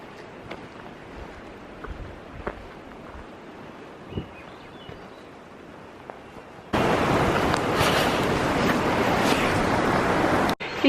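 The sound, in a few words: flowing water of the Tonsina River in Alaska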